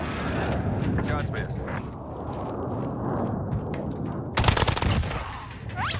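Rapid gunfire in a shooting game, a dense crackling burst up close followed by a sharp louder volley, with excited voices talking over it.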